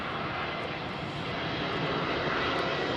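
Lufthansa airliner engines roar at London Heathrow, a broad steady rumble that holds constant and loud throughout, with no pause or break.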